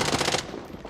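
Rapid automatic gunfire in the Warzone battle royale game, a loud dense burst of closely spaced shots lasting under half a second, then trailing off into softer gameplay noise.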